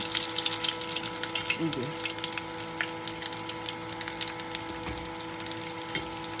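Chicken-stuffed potato chops fry in hot oil with a constant close bubbling hiss and crackle, over a low steady hum from the kitchen.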